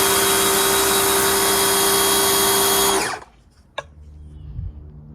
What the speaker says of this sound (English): 3000 PSI pressure washer